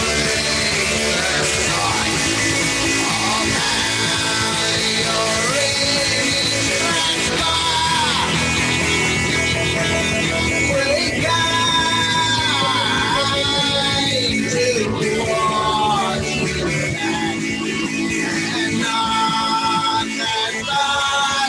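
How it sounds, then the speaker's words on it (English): A Victorian music hall song plays as a batsman's walk-on jingle at a cricket match, continuous and fairly loud for the whole stretch, with a wavering melodic line over a steady accompaniment and no talking. "a fine Victorian music hall number there for his jingle"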